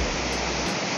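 The Gostilje waterfalls on Zlatibor mountain, heard from the bottom of the falls beside the river, pour down in a dense, steady, loud roar of rushing water that fills the whole moment without any voices.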